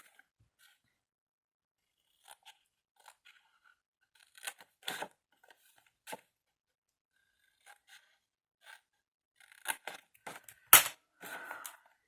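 Scissors snip through paper up to a fold while an Advent calendar triptych is being made, giving scattered short crisp cuts, quiet and close, with a louder burst of snips near the end.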